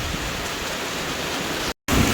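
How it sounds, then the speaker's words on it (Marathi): Steady, dense hiss of rain falling, constant and fairly loud throughout, with a brief dropout near the end. "छान पाऊस सुरू आहे."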